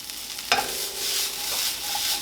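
Green onion tossed into a sizzling stir fry with garlic, a sharp clatter of a utensil at the start followed by continuous moderate frying sizzle and a second softer scrape.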